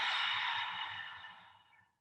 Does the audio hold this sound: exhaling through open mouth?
yes